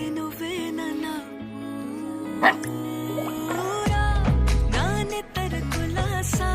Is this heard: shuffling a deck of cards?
no